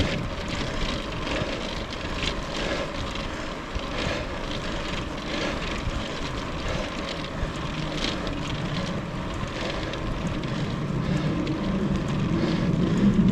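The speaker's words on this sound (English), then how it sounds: "There's a jet above us that I'm hearing." A jet aircraft passes high overhead during a bicycle ride on a trail, a steady broadband roar that stays continuous and gradually swells louder toward the end, with wind and riding noise mixed in.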